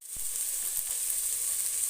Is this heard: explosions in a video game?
no